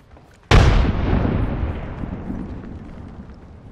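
Frag grenade detonates in a shooter video game with one sudden, loud boom, then a long rumbling roar that slowly fades over several seconds.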